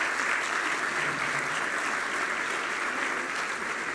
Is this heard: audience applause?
yes